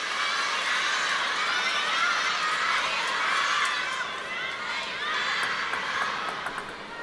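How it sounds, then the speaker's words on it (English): A big crowd at a women's singles table tennis semifinal of the Asian Cup in Haikou shouts and cheers loudly, a dense, sustained roar that holds for several seconds before easing slightly near the end. "Big shout, big reaction from the crowd as Yingsha moves to 9."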